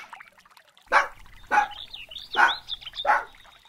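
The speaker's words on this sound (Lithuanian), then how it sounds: "Šuniuk, ko tu loji?" A pug barks four times at an even pace, close and loud, over a faint trickle of water.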